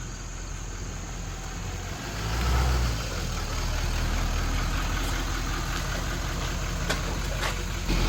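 A truck idles after pulling into a driveway, its engine giving a steady, close, low rumble that swells briefly early on and then holds even.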